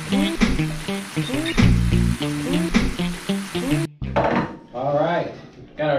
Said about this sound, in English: So we got it. That sizzle.